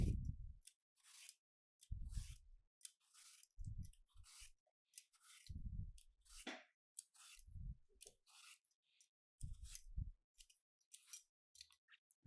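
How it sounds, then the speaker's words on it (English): A knife cuts an apple in half and then cuts it again. About six crisp, crunchy slicing bursts sound close by, separated by short silences, with no one speaking. "the way that I'm cutting the apple is I'm taking my apple and I cut it in half"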